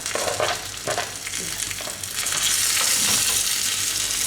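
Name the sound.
coriander sizzling in hot ghee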